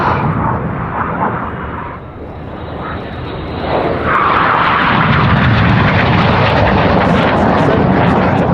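RAF Red Arrows jets at the Oregon International Airshow roar overhead, a broad jet-engine rumble that swells loudly after a brief dip, becoming an intense, close, sustained roar.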